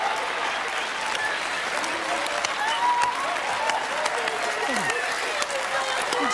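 A Family Feud studio audience claps and cheers, a loud, sustained wash of applause filling the whole stretch with scattered voices underneath.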